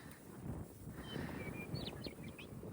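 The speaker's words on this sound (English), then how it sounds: "I love that bird sound." Short bird calls, unidentified species, ring out a few times against steady wind and road noise while driving through open hill country on the way to Alaska; the calls are faint and distant, with no talking.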